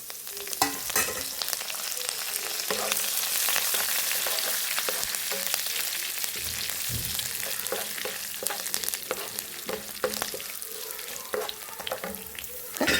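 Green chillies and curry leaves frying in oil with mustard seeds and a little rice make a continuous crackling sizzle, with sharp pops and spatters and occasional stirring scrapes close by.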